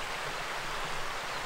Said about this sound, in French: en fond de vallon, on a notre petite rivière